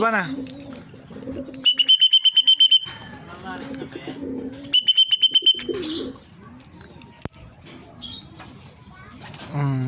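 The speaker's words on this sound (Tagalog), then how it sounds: "Ito na si Big Bird natin, pangatlong ibon natin, dumating ng 9:03" Racing pigeons coo and flutter close by at a loft as a bird returns from training while people talk, and two bursts of rapid electronic beeping ring out, like a loft arrival timer.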